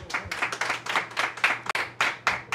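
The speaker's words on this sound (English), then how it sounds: "Let's clap that up." An audience at an inspiring evening event with Lamell J. McMorris claps in a quick, steady rhythm, the sharp claps close and distinct, with no talk over them.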